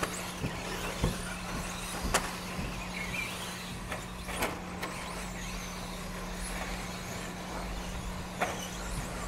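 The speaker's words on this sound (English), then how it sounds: "Looks like John taking on fast lap on track 17-8." RC buggies run laps at a short course racing track, a busy wash of distant motor buzz and rumble broken by occasional sharp knocks and clatters, with a steady low hum underneath.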